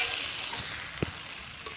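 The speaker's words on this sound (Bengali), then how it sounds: "বেটে রাখা ওই মশলার জলটা উপর থেকে দিয়ে কিছুক্ষণের জন্য তরকারিটাকে ফুটিয়ে নেব" Katla fish curry simmers and sizzles in a pan with a steady, faint hiss and a couple of soft clinks, no voices.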